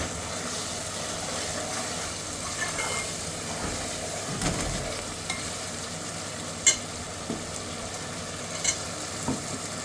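Tomatoes and green chilies frying in roasted masala, a steady moderate sizzle with occasional stirring clinks and scrapes of a spoon against the pan, heard close with no talking.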